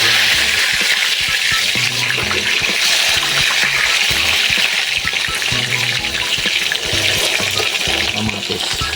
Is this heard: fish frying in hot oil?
yes